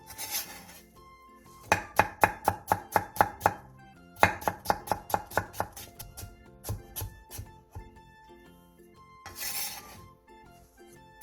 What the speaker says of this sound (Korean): 양파 1개와 당근 4분의 1개를 얇게 채 썰어주세요.